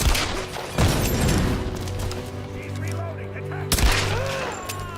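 Gunfire in the Tomb Raider action game: sharp loud shots at the start and again near the end, with a steady rumbling battle bed and music tones in between.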